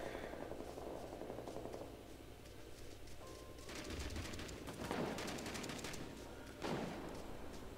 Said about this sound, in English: I got gunfire up here.